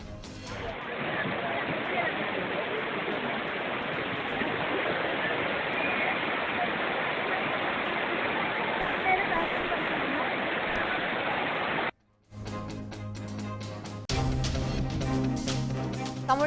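Waterfalls at Courtallam roar with heavy water flow swollen by rain, a dense, steady rush of falling water that runs loud and continuous before cutting away to a news voice with music.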